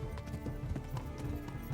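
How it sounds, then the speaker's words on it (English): Horse hooves pound in a fast, continuous galloping rhythm during a horse race in the video game Kingdom Come: Deliverance, loud and close over dense game ambience, with no talking. "Go horse go."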